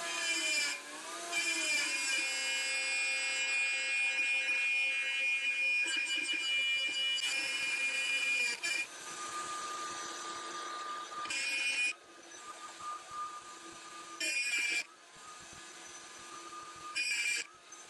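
Router fitted with a 1/4-inch ZahyoX spiral downcut bit cutting into wood, a loud, close, high-pitched whining drone that holds steady, dips as the bit bites, and briefly rises in pitch between passes.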